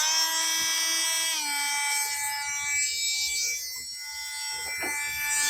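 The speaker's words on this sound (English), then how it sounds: "So let me get the Dremel hooked up, and you guys can watch me struggle." Dremel rotary tool running at high speed while grinding a vehicle's vent window, a steady whine with strong harmonics that drops in pitch briefly as the load changes, then continues, fairly close and alone.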